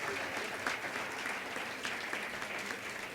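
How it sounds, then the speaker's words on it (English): Sustained applause from an audience for debaters at a live debate on contested issues, steady and dense throughout, with no talking over it. "how about one more big round of applause for everybody who showed their courage today"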